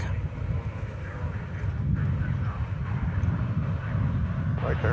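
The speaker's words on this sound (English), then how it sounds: "It's an Airbus A321." An American Airlines Airbus A321 airliner at DFW Airport gives off a steady, continuous engine roar from nearby, while voices talk over it.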